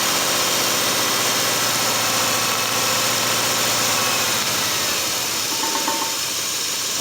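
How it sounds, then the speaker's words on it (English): A 4-cylinder engine idling unevenly while firing on only 2 cylinders, a steady close rumble with a hissing, vibrating edge that continues without interruption. "Again, we've got 2 cylinders running right now."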